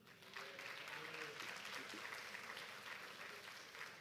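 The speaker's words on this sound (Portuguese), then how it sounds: "Você pode aplaudir o Senhor?" Worshippers in a church applaud together during preaching, a full, steady roar of clapping that starts abruptly and carries on evenly, with some voices faintly beneath it.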